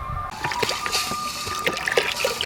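Water pours steadily into a pot for boiling whole vegetables for Bengali gota seddho, a continuous splashing trickle with small clinks, close and fairly loud throughout.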